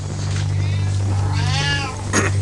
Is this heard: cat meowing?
yes